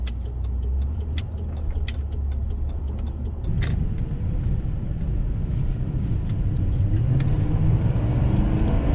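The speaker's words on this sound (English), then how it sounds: "Alright, we're going to do our 0 to 60 right now." A Lincoln Town Car's engine droning and building steadily as it accelerates from zero to sixty, with faint rattles and clicks inside the cabin.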